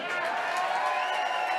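A studio audience at The Greg Gutfeld Show applauds and cheers, a loud, dense, unbroken wash of clapping and voices that carries through the whole moment.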